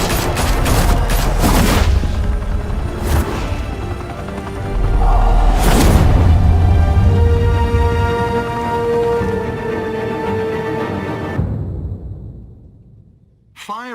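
Bursts of gunfire and heavy booms fill a Batman Telltale Series game scene, with rapid volleys, loud impacts and a dense rumbling bed, mixed with voices, before cutting to near silence at the end.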